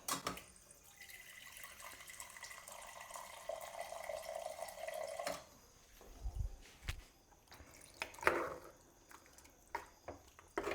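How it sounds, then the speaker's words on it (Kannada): Water pours in a steady stream for about five seconds into dough for Kodava-style papputtu, then stops, followed by a few soft knocks and handling noises nearby. "ಇನ್ನು ಸ್ವಲ್ಪ ನೀರು ಬೇಕು, ನೀರು ಹಾಕ್ಕೊಬಿಡ್ತೀನಿ."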